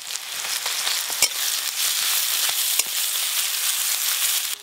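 Chopped onion, garlic, slit green chili and black cumin seeds frying in hot mustard oil, a loud, close, continuous sizzle with occasional sharp pops and stirring scrapes.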